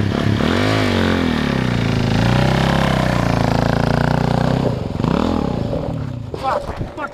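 A dirt bike engine runs hard on a rough trail, a loud close buzzing roar that climbs and falls through several revs before easing off, with a voice briefly heard over it.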